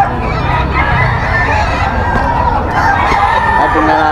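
Gamefowl rooster crowing loudly and close amid dense, continuous barnyard clucking and fowl noise, with men chatting in the background.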